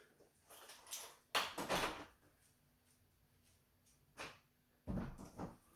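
A door is opened and shut to let Holly the dog out, giving a few separate thumps and rattles at close range with quiet pauses between them.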